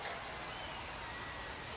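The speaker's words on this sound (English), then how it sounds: "Rain continues to fall here at the ballpark." Rain keeps falling at a minor league ballpark during a Missions vs RoughRiders baseball game, a constant low-level wash of pattering drops, fairly quiet and uniform from start to finish.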